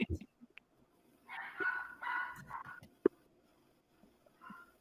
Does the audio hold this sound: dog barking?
yes